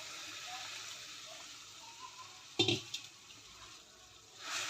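Gram flour paste is worked into a methi pithla mixture in a pan, with soft wet stirring, a sharp metal clatter of spoon on pot midway and a few lighter knocks, while faint voice sounds drift underneath.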